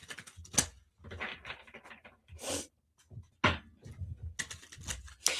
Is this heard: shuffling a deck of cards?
yes